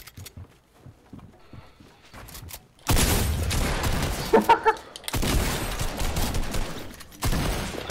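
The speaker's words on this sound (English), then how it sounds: "Stop shooting." Video game gunfire starts after a quiet stretch and then runs as loud, sustained volleys of rapid shots with brief gaps, along with mechanical clatter and a few booming hits.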